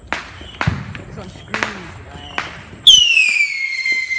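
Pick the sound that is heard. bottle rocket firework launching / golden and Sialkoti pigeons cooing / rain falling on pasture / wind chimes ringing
bottle rocket firework launching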